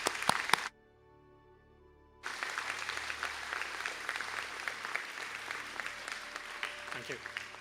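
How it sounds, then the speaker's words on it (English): Audience at a graduation conferring ceremony breaking into sustained applause after a short silent gap, the clapping steady and fairly distant, with a brief burst before the pause. "I ask the graduate of the Bachelor of Science in Quality to stand for a round of applause."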